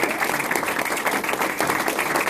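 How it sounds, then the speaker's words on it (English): A crowd at a political event with Governor Scott Walker in Watertown, Wisconsin gives a big round of applause, thick continuous clapping from many hands, lively and close, lasting the whole stretch without speech. "Let's give him a big round of applause."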